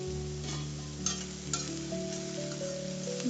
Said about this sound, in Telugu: మీడియం ఫ్లేమ్లో పెట్టుకుని గోల్డెన్ కలర్ వచ్చేంత వరకు మనం ఆనియన్స్ అనేవి బాగా మగ్గించుకోవాలి.